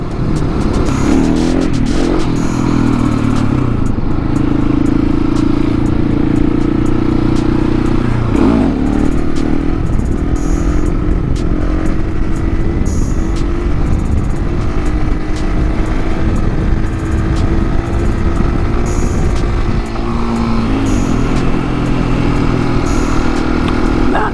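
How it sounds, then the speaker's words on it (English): Big-bore KTM 701 supermoto single-cylinder engine thumping steadily and loud, with throttle blips and revs rising and falling during wheelie practice, wind buffeting throughout and no talking. "gotta love a big bore supermoto"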